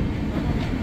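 The Sabroom–Sealdah Kanchanjungha Express, running with new LHB coaches, rumbles steadily into Sealdah station, a loud, continuous rolling roar heard up close.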